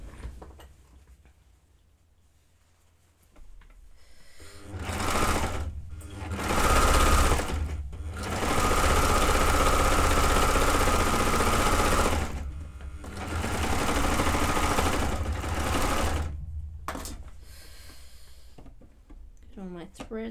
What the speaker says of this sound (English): I'm gonna just sew down here